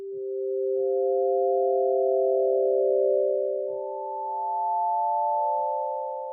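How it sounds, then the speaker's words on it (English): Several steady pure sine tones from a Fabrik Sinoid synthesizer, stacked at different pitches, with a new higher tone joining partway through. They hold smooth and sustained, accompanied by faint low clicks. "how our ears work to interpret all of these random sine waves being combined, different frequencies of sine waves"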